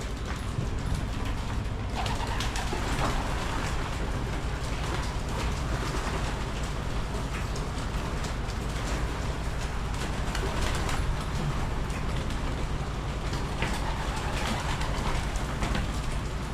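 Pigeons cooing in a loft during heavy rain, soft low coos scattered under a dense, steady hiss of rainfall drumming on the roof, with no talk.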